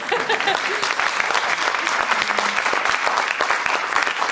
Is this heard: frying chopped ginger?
no